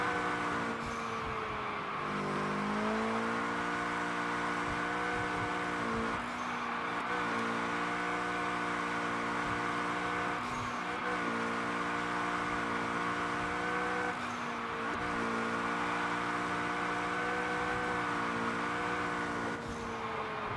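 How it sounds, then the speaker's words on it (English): A car engine in the video game CPM2 drones steadily at high revs while drifting, its pitch dipping and climbing in repeated surges through corners, loud and continuous with no talk. "accelerate in last second to keep the engine revving"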